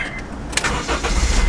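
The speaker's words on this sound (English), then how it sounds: "Start your engine." A car engine cranks and catches after a battery replacement, a short burst of starter noise giving way to a low running rumble, heard close up.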